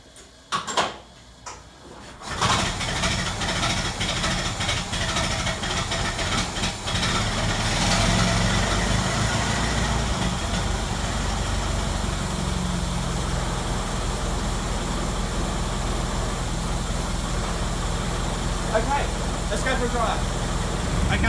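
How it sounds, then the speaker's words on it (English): A warm Ford Model T engine turns over and catches after a few quiet seconds of clicks, then runs on with a loud, steady, rumbling idle and occasional mechanical clatter. "the engine's already warm, so it should be easy to start, hopefully."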